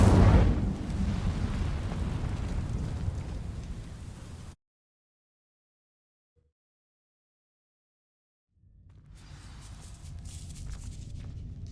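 Incendio fire spell cast in Hogwarts Legacy: a loud whooshing burst of flame that roars and fades over several seconds, then silence before a softer crackling rumble returns.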